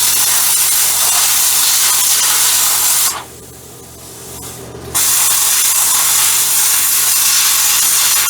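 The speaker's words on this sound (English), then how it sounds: "I got to grind this area because we got to weld the plate there." Grinder working rusty car metal before welding on a plate, a loud continuous hissing grind that stops briefly in the middle and then resumes.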